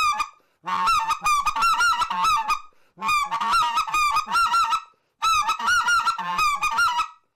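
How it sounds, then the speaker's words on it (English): Three bursts of a hand-blown goose call, each a rapid run of honking clucks mixing raspy scratch notes with higher squealing breaks, loud and close with short gaps between series and no talk. "having that scratch in all of your calling like that makes it sound like a goose."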